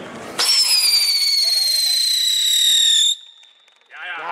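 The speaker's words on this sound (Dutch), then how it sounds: "Nee, gevaarlijk vuurwerk." Fireworks set off in Valencia: a loud, high whistling screech that starts abruptly and holds for nearly three seconds before cutting off, followed by a brief quieter crackle, with faint voices nearby.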